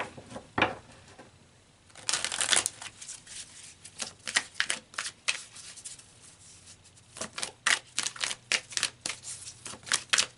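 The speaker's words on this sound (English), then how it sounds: "So let's pull some more cards." Tarot cards shuffled and drawn by hand: rapid riffling bursts and flicking card snaps in uneven clusters, close and fairly loud, with short quiet gaps between.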